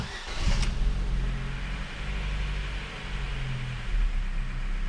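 A Ford Focus 3 engine starts after throttle body cleaning and adaptation: a brief crank and catch, then a steady idle with a slight rev bump near the end, close and fairly loud, no speech.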